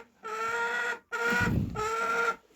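Hens in a coop cluck in three bursts of harmonic, nasal calls separated by short pauses, fairly close and clear, with faint rustling underneath.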